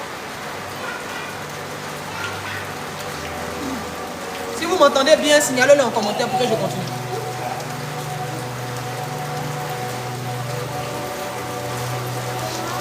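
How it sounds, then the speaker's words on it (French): Steady rain falling outdoors in Côte d'Ivoire, a continuous hiss running throughout beneath someone speaking French, with a brief louder burst of sound in the middle. "Parce qu'il pleut ici."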